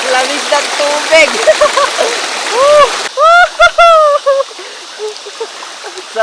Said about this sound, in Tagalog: Sarap pagtampisaw.